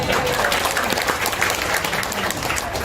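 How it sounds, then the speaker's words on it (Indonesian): An audience at a talk on inheritance and tax applauds on cue, a dense, even burst of clapping that stays loud and close for the whole short stretch with no voices. "Tepuk tangan dulu dong."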